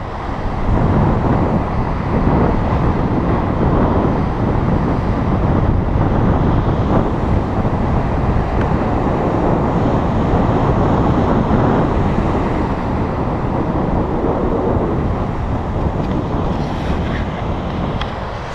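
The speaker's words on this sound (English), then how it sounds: "Big waves coming in." North Sea waves crash and churn against the Orkney coast at the Brough of Deerness in a windy spell after Storm Ciara, a loud continuous roar of surf with heavy wind buffeting the microphone throughout.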